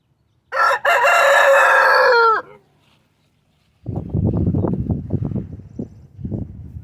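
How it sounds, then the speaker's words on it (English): A rooster crows once, close and loud, then a hen clucks in a quick, uneven run of short calls. "Chickens are nosy."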